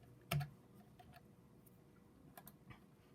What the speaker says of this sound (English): Here you have to type WinVer.